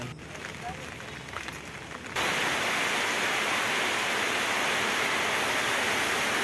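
Steady broadband hiss of heavy monsoon rain in a village that suddenly swells louder after about two seconds, then pours on evenly and densely.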